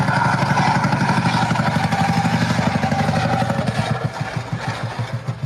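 A nitrous-fed engine that has just blown, running loud with a rough, clattering idle that falters into uneven, pulsing chugs as it starts to die.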